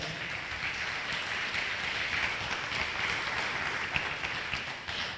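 Audience applause at a talk on Black economics, a steady wash of clapping from a large crowd heard at some distance, even and sustained without pause.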